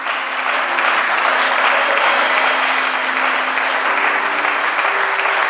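A church congregation at a French-language prayer service breaks into loud, sustained applause for the Holy Spirit, a dense even wash of clapping lasting several seconds with a faint voice underneath.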